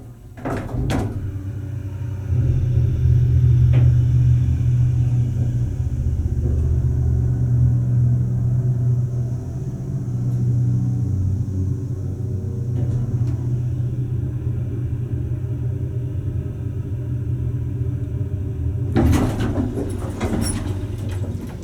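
An original General Hydraulic elevator's motor runs steadily in an old machine room, a loud continuous low rumble and hum with brief knocks near the start and end and no talking.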